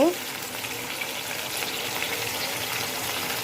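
Onions frying in oil in a pan, a dense steady sizzle from start to finish, close and fairly loud, with a brief tonal clank at the very start.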